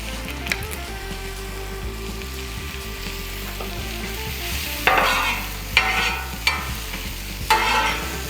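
Smash burger patties for patty melts fry on a Blackstone griddle in avocado oil, a steady sizzle with several louder bursts of spatula scraping and hiss in the second half.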